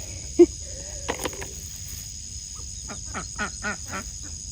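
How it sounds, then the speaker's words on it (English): Ducks in a backyard garden give a scattered run of honking quacks at close to middle distance, one sharp call early and a quicker cluster later, over a faint steady hum. "get these eggs before these ducks attack me"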